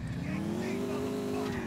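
A car in GTA IV revs and skids with tire noise while running down a woman on the street, a sustained engine drone with squealing overtones at steady loudness.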